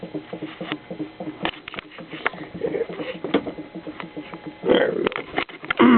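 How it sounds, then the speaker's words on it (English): A 7-plate hydrogen dry cell with 5 neutral plates bubbles and gurgles steadily as it produces gas, a dense crackling patter throughout with a brief voice speaking. "running the dry cell. See and hear the production there."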